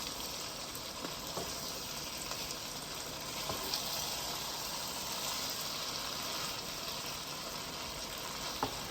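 Peppers frying in a pan for Nigerian gizdodo give off a steady, close sizzle with faint crackles and pops throughout, and no voices are heard.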